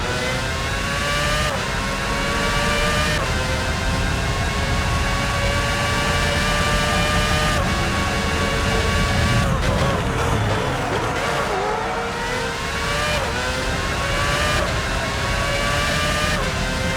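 Formula One race car engines from the PS2 game F1 06 at the Bahrain circuit, a steady loud high-pitched whine with engine tones shifting as cars accelerate and brake, sustained throughout with no pauses.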